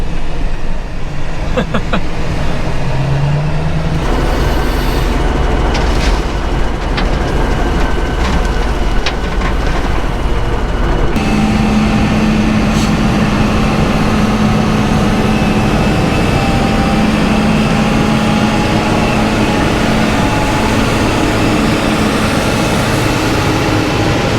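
Wheel loader working on a hillside removing old contour banks, its heavy diesel engine droning loudly and continuously with shifting revs, a steady low rumble and no talking.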